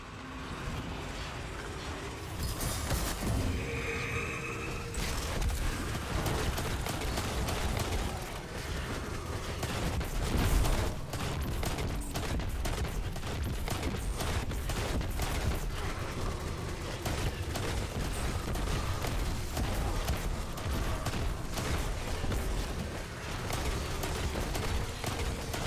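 Edge Transit sticky grenades exploding in a video game, a long dense barrage of rapid sharp blasts and gunfire-like bursts, loud and continuous with brief gaps and a heavy boom partway through.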